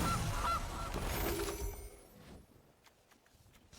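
A loud, close goose honk from a card in Magic the Gathering Arena bursts out in a couple of harsh calls over a game effect whoosh, then fades to quiet soft clicks.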